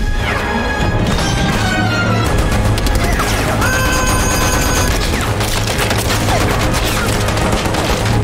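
Automatic gunfire tearing into cheese in a film action scene, a loud, relentless stream of rapid shots and smashing impacts, thick and unbroken, with musical tones and sweeping effects layered over it.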